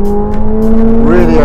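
A 2024 McLaren 750S accelerating on a race track, a loud steady engine drone with the pitch climbing near the end, close and continuous with no pauses.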